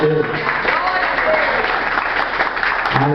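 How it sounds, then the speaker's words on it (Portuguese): A church congregation applauds for Jesus, dense clapping filling the space throughout, with voices talking and calling out over it. "vamos dar a linda salva de palmas para Jesus"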